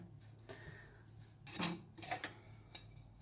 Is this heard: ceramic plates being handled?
yes